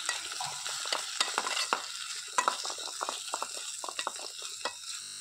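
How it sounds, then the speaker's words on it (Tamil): Tomatoes sautéing in a pan for mutton biryani, a soft steady sizzle with scattered scraping and stirring clicks of a spoon against the pan, close by and with no talk. "தக்காளி போட்டு நல்லா வதக்கிக்கலாம்."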